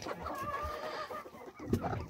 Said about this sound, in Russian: Куры все гуляют.